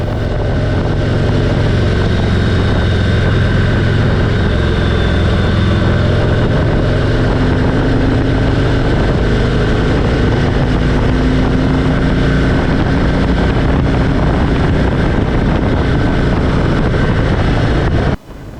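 A Harley-Davidson motorcycle rides a bumpy mountain road on Grand Mesa. A loud, steady engine drone runs without a break, mixed with heavy wind rush against the microphone, and cuts off abruptly at the end.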